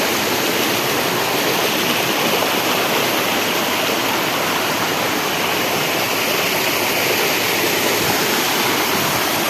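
A curug waterfall roars with loud, dense, continuous rushing water, close and steady throughout with no breaks.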